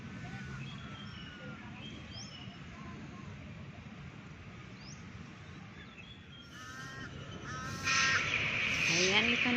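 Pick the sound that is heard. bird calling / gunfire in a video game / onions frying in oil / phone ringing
bird calling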